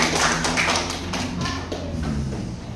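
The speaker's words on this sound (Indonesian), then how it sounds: "beri aplaus temannya" A classroom of students applauds a classmate with a short burst of close, dense clapping that starts loud and gradually thins out over a few seconds.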